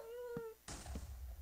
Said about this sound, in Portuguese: Tem um gatinho aqui, cadê?